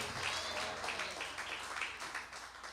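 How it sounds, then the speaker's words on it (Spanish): Church congregation applauding during a sermon, a soft, continuous patter of many hands clapping heard at a distance. "Damos un aplauso al Señor, a su nombre."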